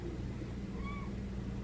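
A cat gives a single short meow, faint and brief, over a steady low indoor hum.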